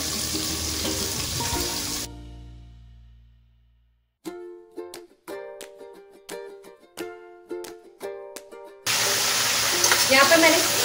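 Green peas fry with ginger and garlic in a pan for a pulao, a loud, dense sizzle that stops abruptly, gives way to a stretch of plucked musical notes, then returns just as loud.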